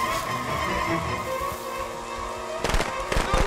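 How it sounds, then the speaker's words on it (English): Sharp crackling firecracker pops burst near the end, following a stretch of dense game noise from Friday the 13th: The Game with a voice underneath. "Whoa, that was a really good firecracker."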